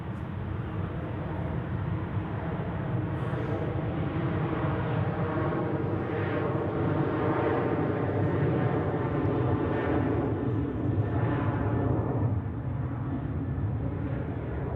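A KLM airliner takes off from Zurich Airport bound for Amsterdam, its jet engines making a loud sustained roar that rumbles on for the whole stretch with only slight swells, heard from the spotting position.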